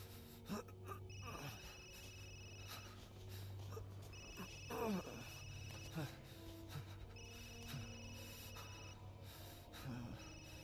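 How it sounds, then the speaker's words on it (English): A telephone rings in the horror video game Resident Evil Village, repeated trilling bursts at regular intervals over a low ambient hum, with game sounds and breathing around it. "will somebody answer that fucking phone?"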